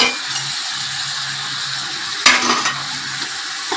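Spices and mushrooms being stirred in a hot pan, with steady frying sizzle and scraping spoon movements, plus a louder clatter near the middle; close and continuous, no talking.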